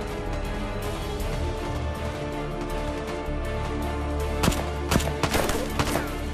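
Gunfire in a Turkish TV war drama: a steady battle din under music, with several loud, sharp shots close together near the end.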